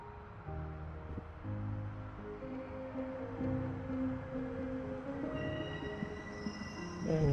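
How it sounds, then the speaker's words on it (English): A train rolling along in the video game Honkai Impact 3rd, with a continuous rumble of wheels on rails, high squealing tones and steady mechanical clatter building louder toward the end. "Noises of train in the background."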